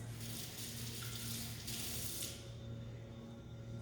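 Water runs steadily from a kitchen tap as hands are washed, a close, continuous hiss and splash that cuts off partway through, leaving a quieter hum.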